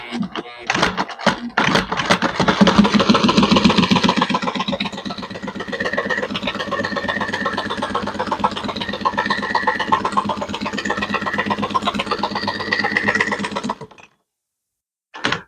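Sewing machine power stitching isinglass for a three-season porch enclosure, a steady motor whir running continuously for about fourteen seconds with a few clicks at the start, then stopping abruptly.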